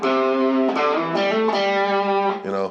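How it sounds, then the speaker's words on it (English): Sustained, heavily distorted electric guitar plays held chords and notes through an effects unit, with a few changes in pitch across a dense, loud, continuous tone. "That guitar sound of that distortion."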